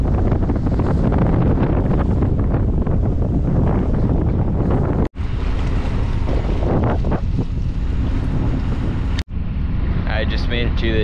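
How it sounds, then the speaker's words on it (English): Strong wind buffets the microphone aboard a sailboat motoring toward Kauai harbor, a loud continuous roar mixed with water rush, cut by two short dropouts, with a few whistling tones near the end. "It's a bit windy"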